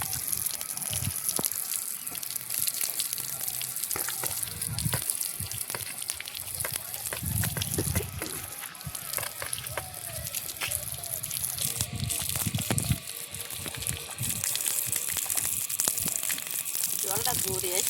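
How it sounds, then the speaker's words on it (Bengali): Water gushes and splashes from a household tap in a new home in the Sundarbans, with a rushing flow that varies and drops away at points, under near-constant voices talking. "জলটা এসছে আসছে আর বন্ধ হয়ে যাচ্ছে"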